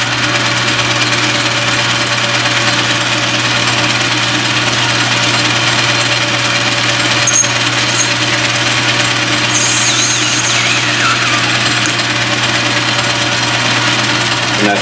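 Lathe facing a plastic workpiece, a steady close mechanical hum of the running machine that holds constant throughout, with a faint shift in tone partway through.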